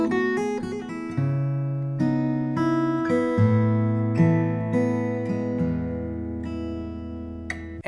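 Guitar picked through a series of sustained notes and chords, recorded with an Audio-Technica 4040 microphone in a home setup; close, clear and steady in level, with no talking.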